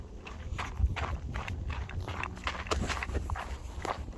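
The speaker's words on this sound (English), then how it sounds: "horse." Horse hooves clip-clop in a steady walking rhythm on hard ground of a hiking trail in Griffith Park, Los Angeles, close and fairly loud, with faint outdoor background noise.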